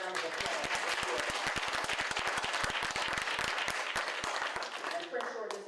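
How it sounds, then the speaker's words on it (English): An audience applauds a police department at a community event, with dense, steady clapping sustained throughout at full volume before tapering slightly at the end. "they deserve a round of applause for sure."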